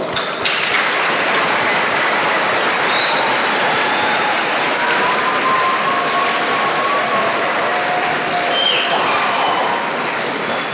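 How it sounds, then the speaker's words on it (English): Audience applause at a Veterans Day ceremony, a dense, loud, sustained wash of clapping from a large crowd that holds steady throughout without any talk. "How about another big round of applause?"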